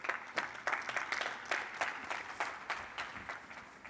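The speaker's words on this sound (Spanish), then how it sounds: "Un aplauso." Applause from an audience at a digital-sports conference event, with sparse, distinct claps in a loose irregular rhythm, moderately loud and fairly close, no talk over it.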